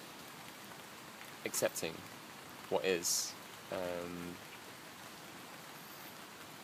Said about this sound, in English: sound of the rain, the feeling of the raindrops on you